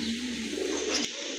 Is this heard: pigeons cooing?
yes